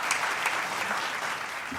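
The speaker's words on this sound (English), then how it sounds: "Please give him a huge round of applause." A conference audience claps for the keynote speaker at an e-mobility forum, a short, even burst of applause under two seconds with no voices over it.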